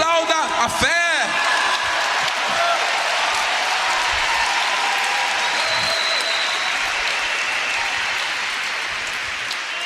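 A church congregation bursts into loud, sustained applause with scattered whoops during a worship service, preceded by a brief voice at the start, the clapping holding as a dense continuous roar.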